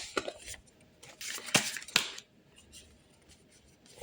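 Oracle cards are drawn from a deck, heard as a few sharp, close papery snaps and soft rustles spaced irregularly over a few seconds with quiet gaps between them.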